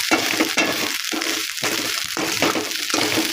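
Dried fish fries in a pan over low heat, a dense close sizzle with bursts of stirring and scraping at a regular pace, and no one speaks.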